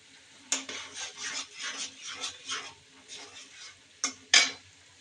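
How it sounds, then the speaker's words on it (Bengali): Shrimp and spices sautéed in a pan, with a spatula stirring and scraping in short rhythmic strokes over a low sizzle, two sharp metallic knocks standing out near the start and end, close and fairly quiet. "আমি চিংড়ি দিয়ে সব মশলা দিয়ে কষাচ্ছি"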